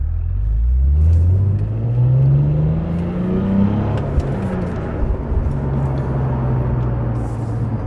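A Cadillac CT4-V Blackwing pulls hard onto the interstate, its engine rumbling low and climbing through rising revs, heard from inside the cabin, loud and close, with a brief dip between gears.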